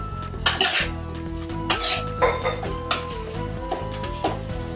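Chilli chicken is stirred in a wide pan, a metal spoon scraping and clanking against the pan in irregular strokes over a steady background hum, close and fairly loud.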